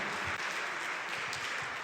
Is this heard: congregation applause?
yes